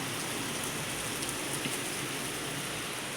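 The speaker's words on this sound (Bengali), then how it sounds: "প্রচণ্ড বৃষ্টি পড়ছে।" Heavy rain falls as a continuous, even rushing hiss, fairly soft and distant, without pauses or other sounds standing out.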